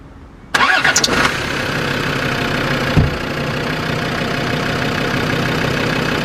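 A car engine cranks briefly and catches, then settles into a steady idle, loud and close, with a small bump partway through the idle and no talking.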